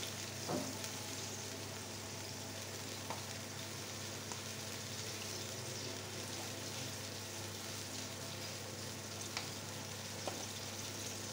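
Ground chilli, coriander, cumin and turmeric frying in a pan: a steady, soft sizzle hisses throughout, with an occasional faint pop or stir.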